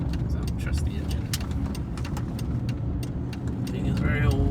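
An old, tired high-revving car capable of 9,000 rpm drives along, its steady engine and road drone filling the cabin while someone talks over it.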